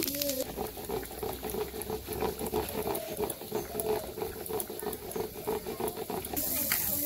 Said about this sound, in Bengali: তো তেল দিয়ে দিছি, কালি জিরা দিয়ে দিলাম,